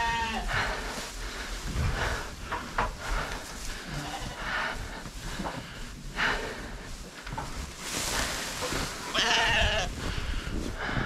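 Several sheep bleat loudly and repeatedly nearby over rustling and shuffling noise, calls overlapping at irregular intervals.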